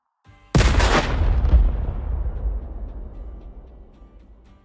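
A single deep explosive detonation in Gold Mining Simulator, used to clear overburden, erupts suddenly, then rumbles and decays slowly over several seconds, heard alone with no talk.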